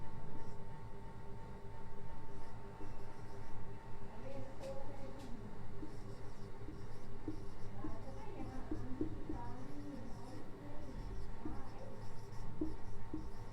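Chalk or marker scratching on a board during a physics lecture on reflection of light, soft irregular strokes under a steady hiss of room noise, with a faint voice partway through.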